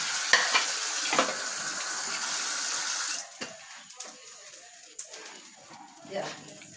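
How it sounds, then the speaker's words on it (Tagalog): Dishes washed at a sink with running tap water and clattering while fried rice sizzles in a pan; the splashing is loud at first, then drops to softer clinks and water sounds. "niluluto yung sinangag, maghugas mo tayo ng pinggan"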